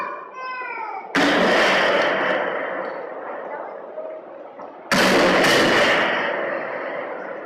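Gunfire from a military school near a home, heard as two loud sharp blasts a few seconds apart, each trailing into a long rolling echo; a brief voice-like tone comes just before the first.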